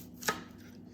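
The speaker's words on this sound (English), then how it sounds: "So this is called dicing." A single knife chop through an onion on a chopping board, one short crisp knock in an otherwise quiet moment.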